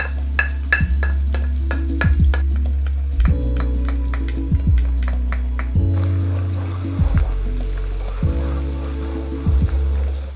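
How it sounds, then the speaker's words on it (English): Garlic added to hot meat fat and anchovy in a pan, a steady sizzle under a low hum, interrupted by a series of clanking, scraping stirs and a brief rushing sound, close and loud, with no speech. "Gonna add all that garlic in now."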